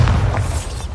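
In the video game Hogwarts Legacy, a Bombarda spell goes off as a loud, close, booming explosion with a heavy low rumble that fills the entire short moment.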